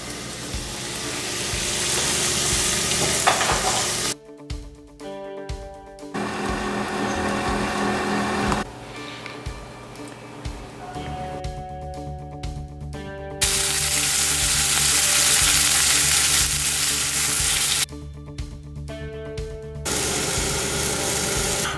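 Lentils go into a frying pan and are stirred, giving a loud, steady sizzle. It is broken by several abrupt cuts and shifts in level, with mechanical whirring in some stretches.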